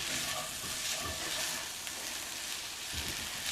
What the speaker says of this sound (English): I'm just going to fry these now until they've got some of a golden sheen on them